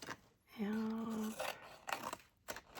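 Scissors snip through paper while a Christmas matchbox is made, giving a few short, crisp cuts spaced over a couple of seconds, close and fairly quiet after a brief tonal hum.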